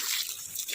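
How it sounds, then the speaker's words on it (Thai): Water pours and splashes over basil plants during a second rinse to wash off concentrated bio-fermented manure liquid, a steady close hiss of spraying water throughout. "รดน้ำรอบ2นี้ก็เพื่อล้าง"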